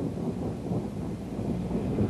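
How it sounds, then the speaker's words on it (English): A low, rumbling roll of thunder during a heavy October snowstorm in Worcester, sustained and broad, heard alone without talk. "We just had a thunder snow."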